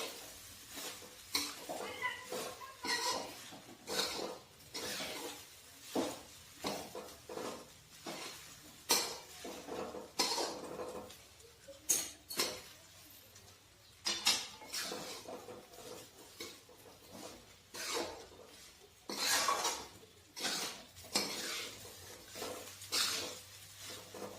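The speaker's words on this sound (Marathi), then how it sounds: "आता आपल्याला हे सर्व व्यवस्थित मिक्स करायचंय" Sabudana khichdi with potato is stirred in a kadai, a spoon scraping and knocking against the pan in repeated quiet strokes with an uneven rhythm.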